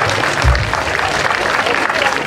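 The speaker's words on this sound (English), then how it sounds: "Big round of applause." An audience applauding at a costume parade: dense, steady clapping from a large crowd, loud and continuous throughout, with crowd noise mixed in.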